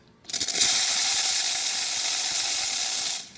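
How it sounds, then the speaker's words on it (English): Steam wand on an ECM Technika Rota espresso machine hissing strongly, a sharp start followed by a steady, loud, close hiss of about three seconds that cuts off at the end, with no talking. "Steam is good and strong,"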